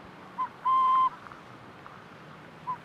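A burrowing owl calls in the open, with a few brief soft notes and one longer sustained whistled hoot standing out over a low, steady background hiss.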